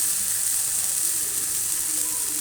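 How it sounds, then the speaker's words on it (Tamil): Onions sautéing in a pan give a soft, even, continuous sizzle with a faint hiss, steady and close throughout without any talking. "வதக்கிக்கிறேன் வெங்காயம் போட்டுக்கிறேன்"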